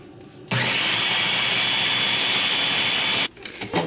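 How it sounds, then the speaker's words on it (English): A small Ninja food processor blends crepe batter made with eggs and cream cheese, a loud steady motor whir that starts abruptly, runs about three seconds and cuts off. "And then I just blend it all in this little like ninja food processor."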